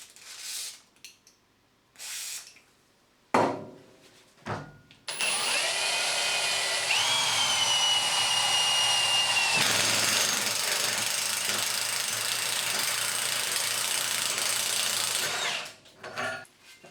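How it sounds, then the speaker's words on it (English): An impact driver fitted with an HMT step drill bit bores through thin uni-strut metal channel, a loud continuous whirring grind lasting about ten seconds, preceded by a few short bursts and handling knocks. "that drilled that hole in a matter of seconds"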